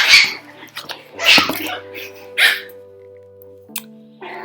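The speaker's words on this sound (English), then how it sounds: "I've got some puppies playing. They're being a little rambunctious." Rambunctious puppies play indoors, letting out several short yips and barks with snuffling and scuffling between them, fairly close, while a low tone hums in the background.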